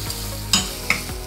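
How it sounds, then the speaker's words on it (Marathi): Ginger garlic paste fries with browned onions in a pan, giving a close, steady sizzle broken by two sharp utensil scrapes as it is stirred. "आता आपण अद्रक लसूणची पेस्ट टाकून घेऊया। 1 चमचा टाकली आहे मी। आता ही परतून घेऊया।"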